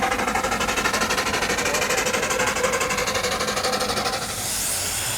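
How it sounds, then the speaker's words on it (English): A Clayton single-cylinder agricultural steam engine in Fletcher brown, with trailer and living van, runs at a steam rally, giving a steady, fast rhythmic chuffing and mechanical clatter with a hiss rising near the end, loud and continuous. "It's a Clayton engine painted in Fletcher brown, single cylinder agricultural, complete with trailer and living van."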